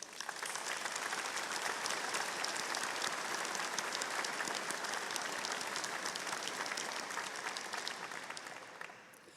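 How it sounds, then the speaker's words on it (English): A graduation ceremony audience applauds their supporters with a sustained, dense round of clapping that holds evenly throughout before tapering off at the close. "Let's give them a round of applause"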